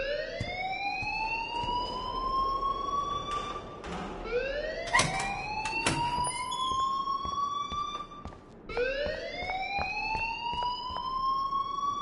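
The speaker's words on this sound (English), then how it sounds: "please turn off that alarm since that's your job" Electronic alarm in the game Life is Strange, a loud rising siren-like wail that sweeps upward repeatedly in long cycles, continuous for the whole stretch with a few sharp clatters in the middle.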